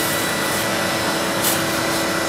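Vacuum cleaner cleaning out the inside of an 800 MHz Apple eMac computer, a steady close broadband whoosh holding level throughout with a slight rise near the middle and no talk.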